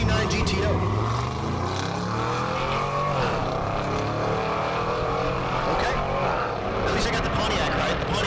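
Two drag cars, a 1969 Pontiac GTO and a fifth-generation Camaro, roar down a Kansas dragstrip in a steady, loud engine drone that rises and holds for the whole run, with a faint voice beneath.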